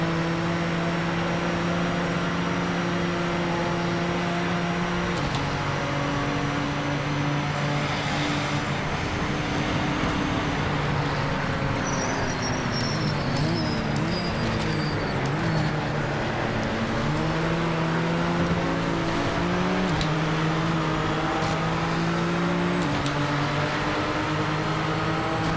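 A BMW GT4 race car engine in the video game Project Motor Racing at Mount Panorama drones loudly and continuously, its pitch stepping up and down through gear shifts, with no talking.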